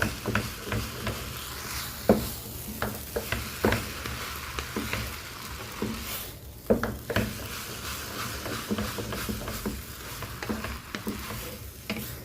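Vegetables for pancit stir-fry in a pan with a soft, steady sizzle, punctuated by regular scraping and clacking strokes of a utensil; fairly quiet and close, with no talking.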